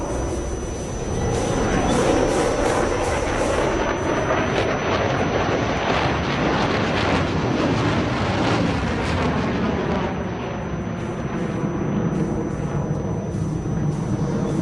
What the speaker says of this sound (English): noise is coming from those 2 SAP AL41 afterburning turbofans